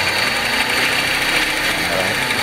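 A Honda Domani D15B engine idles roughly and barely keeps running, giving a dense, steady mechanical drone with a faint rattle, loud and close throughout.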